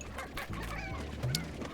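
Chickens in the Slime Rancher video game cluck in short bursts, with a squawk near the end, over a faint game background.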